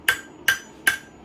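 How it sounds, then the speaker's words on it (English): A domed hammer striking hot steel while forging a knife blade, four sharp metallic blows at an even, unhurried pace, close and loud with a brief ringing tone after each hit. "The hammer James is using is pretty already shaped like that"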